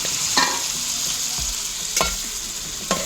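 Red fish with crushed garlic and masala fries in a pan for an Agri-style kalvan, a loud, close, continuous sizzle marked by three scraping stirs of a spatula.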